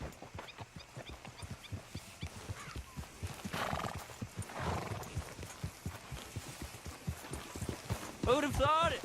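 Hooves pound in a steady galloping rhythm as a horse runs in the video game Red Dead Redemption 2, close and continuous under talk, ending with a loud whinny.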